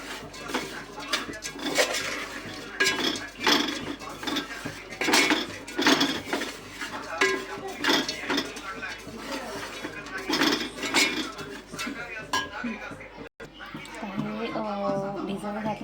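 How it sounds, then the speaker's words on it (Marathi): A spoon stirring cardamom powder into a melted mixture in a pan for aliv laddoo, with repeated metallic scraping and clinking strokes in an uneven rhythm while someone talks over it. "आपण त्याच्यामध्ये ही हाफ चम्मच वेलची पूड घालू थोडी चव येते याने नसेल तर करू शकतो छानपणे आपण मिक्स करून घेऊया"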